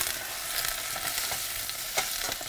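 Spinach leaves fry in brown butter seasoned with salt and pepper, giving a dense, continuous crackling sizzle with soft stirring scrapes and a brief louder spatter near the end, close up with no voices.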